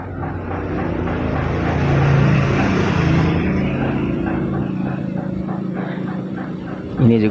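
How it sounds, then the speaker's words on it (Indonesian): A Scania K410IB coach of the Putra Pelangi line passes along a road between Banda Aceh and Medan past receding floodwater, a broad rumbling engine and road roar swelling and fading with wet tyre hiss, people talking over it. "kayaknya ini bus Putra Pelangi. Scania"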